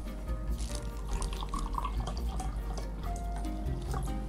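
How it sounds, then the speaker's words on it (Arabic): Water poured over a spoonful of sodium bicarbonate to dissolve it, a steady close trickle with small dripping splashes running throughout. "بنحط معلقه الا ربع من الصوديوم بيكربونات ونحط عليهم ميه ونحاول ان احنا"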